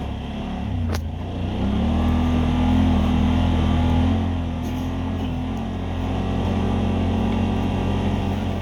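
A Yamaha R-Max side-by-side runs along a mountain trail, its engine droning steadily with a low rumble that swells and eases slightly as it rides, heard from inside the cab.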